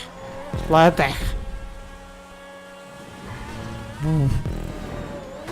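A racing car in Grand Theft Auto 5 Online, its engine droning steadily with two sharp revving surges, while a player talks over the game.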